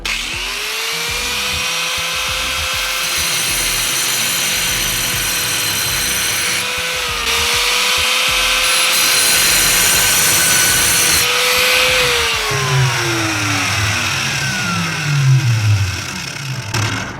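Ryobi angle grinder cutting porcelain tile, a loud continuous high whine with the motor pitch dipping under load and then spinning down near the end.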